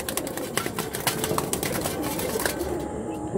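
Pigeons of Andhra and Chennai breeds at a dealer's coop, a dense flock murmuring and cooing continuously with occasional wing flutters, close and fairly loud, no talk.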